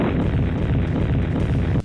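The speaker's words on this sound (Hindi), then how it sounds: "धमाका होते ही कार के परखचे हवा में उड़ गए और दूर दूर तक धुआं नजर आने लगा" A white car packed with explosives is destroyed by security forces in a controlled detonation. The blast comes as a loud, continuous rumbling roar that fills the whole stretch before cutting off abruptly.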